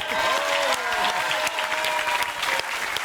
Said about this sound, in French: applaudis bien fort